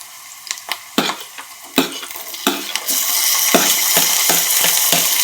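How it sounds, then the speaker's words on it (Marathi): Onion and tomato fry in a pan on a low flame for dal, with repeated sharp clinks of a spoon stirring against the pot over a soft sizzle that rises and steadies toward the end. "बारीक गॅसवरती आपण कांदा भाजायचा"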